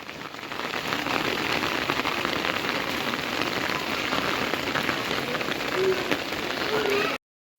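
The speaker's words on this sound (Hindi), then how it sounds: "बारिश भी अभी बंद नहीं हुई है सुबह से" Heavy rain pours steadily onto a flooded lane, a dense, unbroken hiss of drops hitting water and surfaces at close range until it cuts off abruptly at the end.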